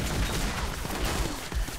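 Miss Fortune fires a rapid burst of gunshots in League of Legends, a dense crackling volley of overlapping shots and impacts in game combat.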